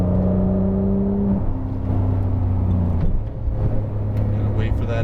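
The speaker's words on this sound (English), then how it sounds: "let it roll through the corner and then squeeze back on throttle off the corner here" Porsche 911 GT3 on a racetrack, its engine droning steadily with harmonic tones that shift as it comes off a corner and the throttle is squeezed back on, with an instructor's voice talking over the engine throughout.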